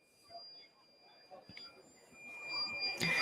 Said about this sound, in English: a high-pitched buzzing noise, that is our fire alarm panel